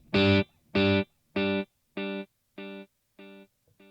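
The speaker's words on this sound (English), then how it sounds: "we're initially going to hear an overdriven guitar and then gradually a more dry guitar" A guitar note repeats seven times through a delay effect, each echo evenly spaced and a little quieter, starting heavily overdriven and turning cleaner and drier with every repeat.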